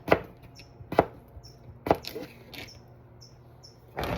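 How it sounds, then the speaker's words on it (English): A knife chops through potatoes into bite-sized pieces on a cutting board, with sharp distinct thunks at a slow, even pace, close and fairly quiet, and a faint chirping in the background. "cut it in half once, and then cut it in half the long ways, and then bite-sized pieces"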